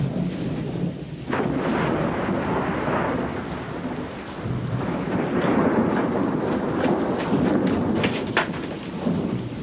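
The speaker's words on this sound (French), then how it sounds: "Il a peur du tonnerre." Rolling thunder rumbles through a nighttime storm with steady rain, a continuous low, loud roar swelling and fading over several seconds with no voices.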